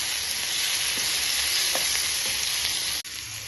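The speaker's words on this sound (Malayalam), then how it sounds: "അതിൻ്റെ അകത്തോട്ട് രണ്ടിന് കറിവേപ്പില ഇട്ട് കൊടുക്കാം ഇത് ഒരുമാതിരി ഒന്ന് നല്ലവണ്ണം വഴന്നു വെക്കാം" Curry leaves sizzle steadily in hot oil in a pan while being sautéed for a chickpea curry, with a constant loud frying hiss and a few soft stirring clicks.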